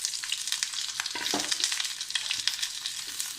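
Small onions frying in hot coconut oil, a steady bright sizzle with a few soft stirring scrapes, close and continuous with no talking.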